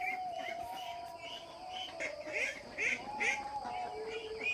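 Penned farm ducks quack loudly and continuously, a dense overlapping chorus of repeated calls close by.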